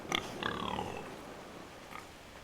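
A pig in the Game of Thrones video game gives a short squealing grunt and a second oink, close and clear, followed by a faint quieter grunt.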